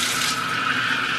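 Water from a shower runs steadily over sandy feet being rinsed off, a continuous close hiss and splatter with no talking.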